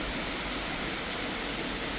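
A waterfall at a cool outdoor spot, heard as a steady, unbroken broadband rush of falling water, fairly loud and even throughout, with no voices.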